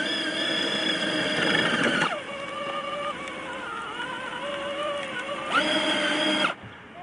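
Peg Perego Polaris Sportsman 400 ride-on toy ATV, tuned with a 2-speed 2x4 setup, whines steadily from its electric motor, the pitch rising and falling as it accelerates and slows, loud and close.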